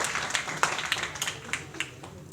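Scattered, sparse clapping from a comedy stage show audience, individual claps popping irregularly over a low crowd murmur.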